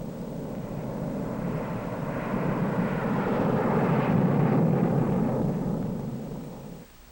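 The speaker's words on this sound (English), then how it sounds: "Specially instrumented aircraft fly the tests that verify what happens inside a weapon" An instrumented Air Force test aircraft flies over, a loud low rumbling engine roar that swells steadily to a peak and then fades out abruptly, with no voices.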